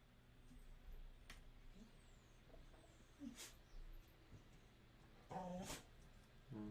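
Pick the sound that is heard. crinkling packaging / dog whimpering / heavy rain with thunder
dog whimpering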